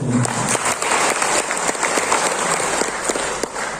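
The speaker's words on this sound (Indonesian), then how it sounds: "Tepuk tangan." Audience at an interfaith gathering with religious leaders in North Kalimantan gives a round of applause, sustained clapping with some individual claps standing out, moderately loud and without speech.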